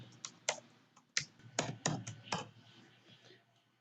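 Password keys are tapped on a computer keyboard in an uneven run of about ten quiet, close clicks, some bunched together, fading toward the end with no speech.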